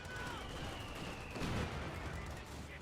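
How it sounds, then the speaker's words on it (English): Mortar shell impact in Company of Heroes 2, a 120 mm round landing amid a 3v3 battle, a dull burst rising out of dense continuous gunfire and battlefield noise that runs throughout. "Mortar with a decent hit there"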